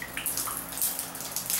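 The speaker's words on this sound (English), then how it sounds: "It's pushed down tight, and it's still dripping" Water dripping and trickling from a leaking shower valve that will not shut off fully, a quiet close patter of irregular drops falling with splashy bursts, no talk.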